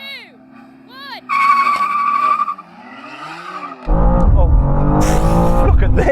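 Several generations of BMW M2 cars launch side by side in a drag race, tyres squealing loudly and engines revving, with a sudden roaring surge of engine noise as they pull away.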